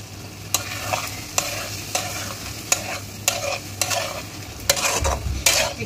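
Poppy seed paste with ridge gourd and potatoes is stirred in a frying pan, giving a steady series of sharp scraping strokes over a soft sizzle, close and without voices.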